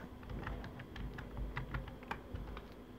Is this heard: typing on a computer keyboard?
yes